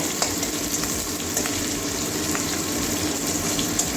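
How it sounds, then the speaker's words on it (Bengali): Green chillies and onion frying in oil in a pan, a steady close sizzle with crackly pops and intermittent stirring scrapes, continuous and fairly loud with no speech. "লাল লঙ্কা পেঁয়াজটা ভাজবো বেশি লালও করবো না মানে মিডিয়াম কাঁচা লঙ্কাটা দেওয়া পর্যন্ত ভেজে নেব"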